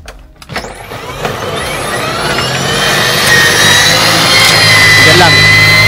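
A snow blower engine restarted in snowy Galena, Alaska, runs with a steady loud mechanical drone that climbs in pitch and holds high, with a person talking faintly over it.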